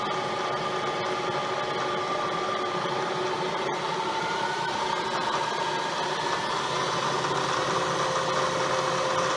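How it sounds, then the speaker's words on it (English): A milling machine spindle runs steadily at about 800 RPM during part setup with an edge finder, giving a continuous close mechanical whine with tonal hum and no talking. "I'm actually going to increase the spindle speed here to about 800 RPMs, so it's probably gonna get a little louder still"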